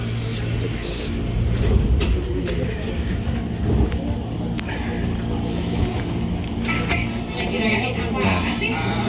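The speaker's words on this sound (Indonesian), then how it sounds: "bisa nih naik kereta api Red Line" A KRL commuter train on the Red Line rides out from Bojonggede station, with a continuous low rumble and rattle of the carriage and occasional clicks and knocks, heard from inside while people talk faintly.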